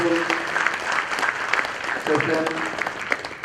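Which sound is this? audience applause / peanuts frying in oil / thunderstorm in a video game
audience applause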